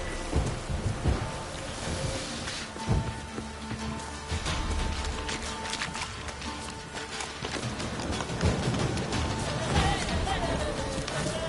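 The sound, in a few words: rain falling, from video game The Witcher 3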